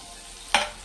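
Chopped green chillies drop into a little hot oil for a spicy cauliflower and egg dry sabzi. After a quiet start, a sudden loud sizzle bursts up and then slowly fades over the last moments.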